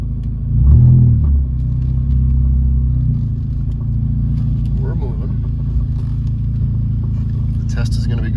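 A Nissan car's engine being given throttle while the car is driven, with the MAF converted to speed density. A deep, steady rumble swells briefly near the start and then holds a constant drone, with faint voices in the background.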